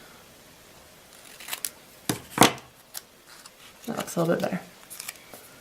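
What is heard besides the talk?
trimming the edges of a paper card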